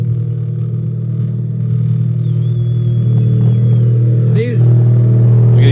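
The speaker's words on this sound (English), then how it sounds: "We're going to bring up our third trophy truck" A trophy truck at the Baja 1000 finish rumbles with a heavy, low engine drone that builds and revs, while a voice talks over it.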